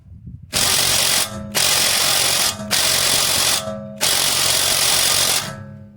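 Impact wrench hammering at stuck lug nuts on a Mercedes-Benz C240 during rear shock and sway bar link work, four loud sustained rattling bursts separated by short pauses, close and alone.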